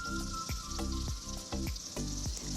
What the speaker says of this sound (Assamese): এতিয়া আৰু অলপ সময় ভালদৰে ভাজি ল'ম।